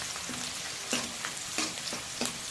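Onions and whole garam masala spices fry in oil in a kadai, a continuous close sizzle punctuated by rhythmic scraping stirs roughly every half second, with no talking.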